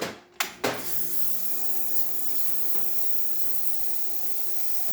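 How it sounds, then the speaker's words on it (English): A Quick Mill espresso machine's steam wand, freshly serviced with a new pump, opens with a couple of sharp bursts and then hisses strongly and steadily, close and loud, with no voices. "A nice shot, we'll check the steam."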